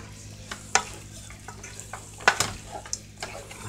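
Ground beef fries in a pan with a soft steady sizzle, punctuated by sharp clacks and scrapes of a utensil breaking up the meat, close by and without talk.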